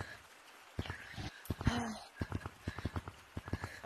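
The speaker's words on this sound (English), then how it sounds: "I hear footsteps." Footsteps in a school, a run of quick soft thuds and taps drawing nearer, mixed with voices talking close by.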